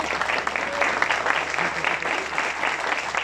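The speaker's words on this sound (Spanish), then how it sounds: "un aplauso, por favor." Applause from a seated audience at an agricultural training event, moderately loud, dense clapping that holds steady throughout with a faint low hum beneath.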